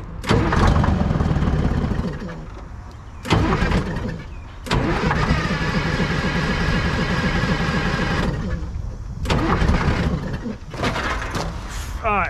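Detroit 6v53 diesel engine in a Chevy C70 truck, sitting 30 years and fed fuel by gravity, cranks repeatedly in loud bursts separated by brief pauses, catching and running roughly for several seconds between attempts.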